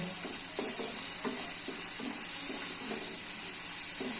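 Spice masala fries in oil for Katla fish curry under a constant loud sizzle, with a spatula scraping the pan in a steady rhythm of strokes about twice a second.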